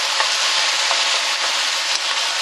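Udon noodles with onion, green pepper, soy sauce and oyster sauce are stir-fried in a pan, producing a loud, continuous close sizzle with faint scraping as the food is tossed.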